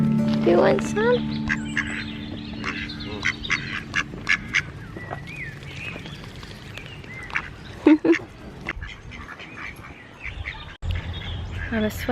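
Ducks quack in scattered bursts at a country park, with small birds chirping and people talking close by over the birds.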